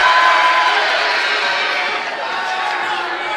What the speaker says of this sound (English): Newman, their students are making a ton of noise